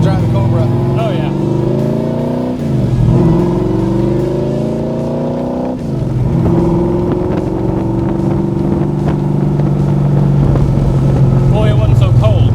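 A 1965 Backdraft Cobra roadster drives under load, its loud engine drone heard from inside. The pitch climbs steadily, drops briefly at two gear shifts, then climbs again.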